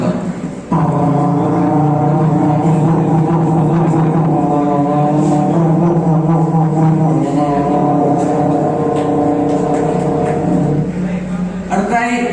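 A voice imitates a Bajaj petrol autorickshaw climbing uphill, a loud, sustained, strained engine drone held for about eleven seconds before cutting off, performed at a school arts festival mimicry contest.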